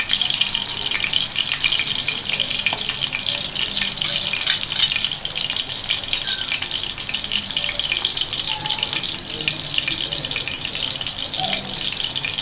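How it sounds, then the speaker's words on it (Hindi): Chapli kebabs fry in hot oil with a steady, even sizzle and scattered small pops and crackles, constant and close throughout. "इसी तरह मैं सारे कबाब बना लूँगी और फ्राई करूँगी।"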